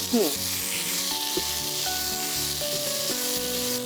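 Afghan beans pulao frying in a pan, a close steady sizzle with a rubbing scrape at the start and faint tonal hum underneath.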